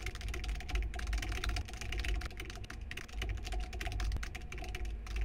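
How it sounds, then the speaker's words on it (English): Fast, steady clicking of a computer keyboard as text is typed into a photo-editing program, close and continuous with only brief pauses. "Let's go ahead and just type something in here."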